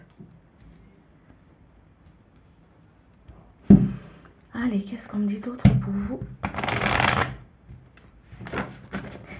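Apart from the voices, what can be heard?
tarot cards being laid out and shuffled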